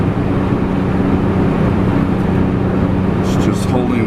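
An LS-engined Jeep JK cruising at highway speed while holding steady revs: a constant, loud drone of engine and road noise inside the cabin, unchanging throughout, with a voice talking over it.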